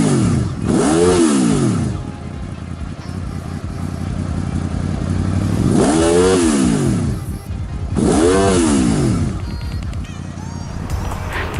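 A 6th-generation Honda VFR800 VTEC motorcycle with its stock exhaust revs up sharply three times, each rise and fall clear and close, with the engine idling between bursts.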